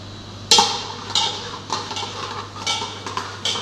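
Spices being stirred in hot oil in a pan with a metal utensil, heard as a series of close, sharp scraping clinks at irregular intervals over a low steady hum.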